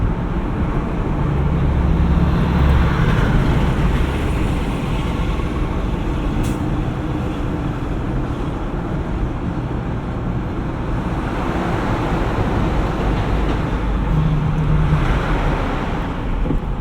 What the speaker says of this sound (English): I'm actually happy with the way this thing revs up.